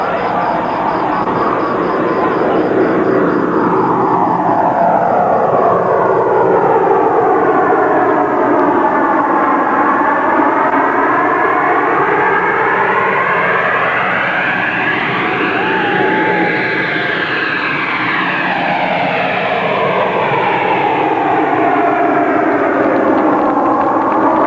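A loud airplane sound effect plays over the PA at a live outdoor bhajan night at a Rajasthan fair, a broad engine roar with a sweeping pitch that rises and falls steadily throughout.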